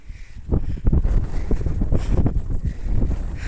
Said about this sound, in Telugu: చాలా బాగుంది వ్యూ కూడా, చల్లటి గాలి,